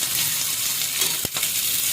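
Chopped onion frying in hot oil in a pan, a steady close sizzle throughout with a brief clunk partway through, no talking.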